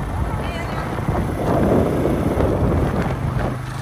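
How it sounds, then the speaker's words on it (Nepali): A Benelli motorcycle ridden along a road: a steady, close engine rumble buried under heavy wind buffeting on the microphone that swells slightly midway and continues throughout. "बेनेली बाइकबाट जाँदैछौँ आज।"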